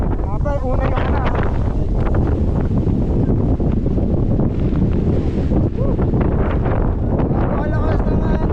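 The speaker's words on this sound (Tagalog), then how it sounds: "Napakalakas ng hangin" Strong wind on Mt. Batulao roars and buffets the microphone continuously in loud, gusty bursts, with voices faintly mixed in.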